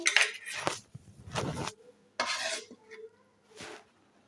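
Metal utensils clink against a dish while sweet semai vermicelli is served, several separate scraping and tapping bursts spread over a few seconds, close and fairly quiet with no voices.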